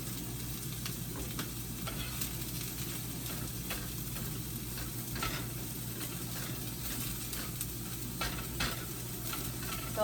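Collard greens sizzle in ghee in a pan, a low, steady frying hiss with intermittent soft scraping and tapping from stirring, close and fairly quiet, with no voices.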